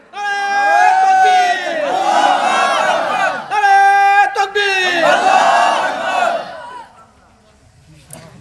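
A crowd at a waz mahfil religious gathering in Sylhet shouts the takbir "Allahu Akbar" in two loud, sustained unison chants, each call swelling and then fading, followed by a quieter tail.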